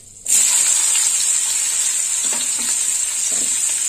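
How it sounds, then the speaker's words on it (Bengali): Oil sizzles loudly as chopped onions hit the pan with nigella seeds and dried red chillies, a bright, steady frying hiss that holds on, with a few soft stirring scrapes. "পেঁয়াজটা একটু লাল লাল করে ভেজে নেব।"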